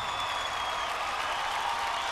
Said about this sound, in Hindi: जोरदार तालियों के साथ स्वागत करें संतोष राय जी के।